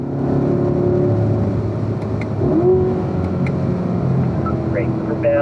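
A car runs on a track straightaway just after an upshift to fifth gear. The engine gives a loud, steady roar with a slowly shifting pitch throughout.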